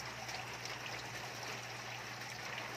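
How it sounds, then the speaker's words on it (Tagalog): A submersible pump running in a crayfish water tank, a steady low hum under continuous faint trickling and bubbling water, unbroken throughout and without talk. "Submersible pump yun."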